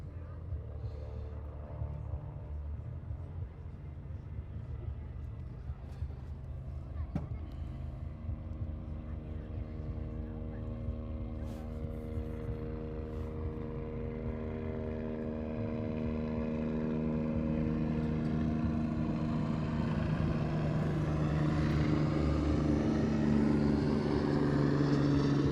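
A Med Flight medical helicopter flies at an air show, its rotor and engine drone building from faint and distant to louder and nearer, with a rising whine and wind noise.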